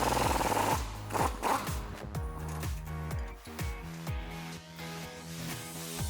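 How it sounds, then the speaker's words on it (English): A 21mm socket on a power tool works loose the track bar bolt on a 2-door Jeep Wrangler JK, giving a loud close series of whirring bursts that each wind down in pitch, with no talk. "I'm going to use a 13/16 inch box wrench to hold that still while we use our 21mm socket to take that bolt out."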